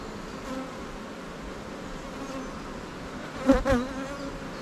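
Honeybees buzz steadily around an opened hive frame filled with brood, a soft continuous hum with a few louder passes of individual bees flying close by near the end.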